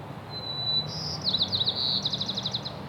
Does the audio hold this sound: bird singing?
yes